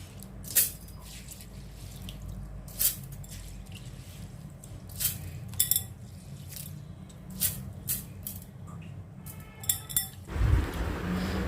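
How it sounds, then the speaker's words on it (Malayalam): Soaked rice is tipped into a mixer grinder jar for vellayappam batter: scattered soft clinks, wet patters and small knocks sound close and quiet, ending in a fuller rustling thump. "ആദ്യം ജാറെടുക്കുക, മിക്സിയുടെ ജാറെടുക്കുക. ഇതിലേക്ക് ഈ അരി ഇടുക."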